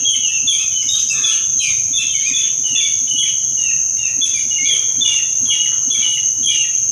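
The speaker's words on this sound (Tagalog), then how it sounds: "Mga ibon." Birds chirp and sing loudly and continuously in a dense chorus, with overlapping rapid tweets and a steady high-pitched trill running underneath, and no voices.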